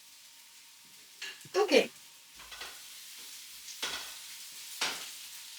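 Onions cook down and caramelise in a frying pan with a low, continuous sizzle, broken by a few louder stirring scrapes and clatters; a voice speaks briefly.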